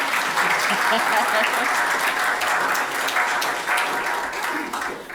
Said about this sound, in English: We'll have a round of applause, Jen.